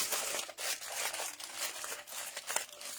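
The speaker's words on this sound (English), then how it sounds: "Crumple underneath." Aluminum tin foil being crumpled and pressed by hand into a turtle body shape, a close, continuous crinkling and crackling with a few sharper crunches.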